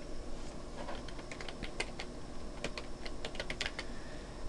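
Someone types on a computer keyboard in a quiet room, producing quick, irregular bursts of light clicking keystrokes, close and moderately soft, with no talking.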